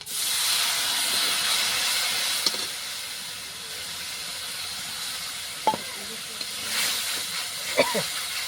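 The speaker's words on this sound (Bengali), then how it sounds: "এই যে মশলাটা ঢেল দিলাম তেলে" Spice paste poured into hot oil with browned onions and salt for a rohu fish curry, a loud steady hissing sizzle throughout with a few brief clinks and scrapes.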